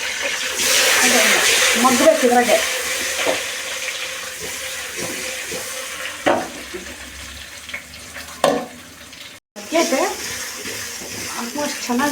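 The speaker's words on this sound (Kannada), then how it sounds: "ಬದನೆಕಾಯಿ ಮುಳುಗೋ ಅಷ್ಟು ನೀರು ಹಾಕಬೇಕು" Water splashes and pours into a pan of brinjal (eggplant) for a curry, a steady rushing sound up close with a person talking over it.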